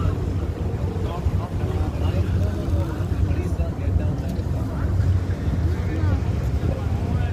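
Motorboat churning through canal water in Venice, a continuous low engine rumble with splashing and wind buffeting the microphone, while people talk throughout.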